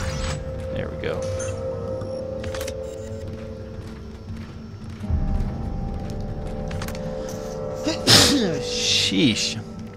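A single sharp, close sneeze bursts out near the end, over a steady electronic hum and background game sounds from Dead Space 2, with a person talking nearby.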